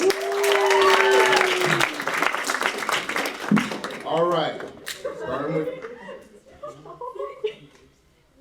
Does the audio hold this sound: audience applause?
yes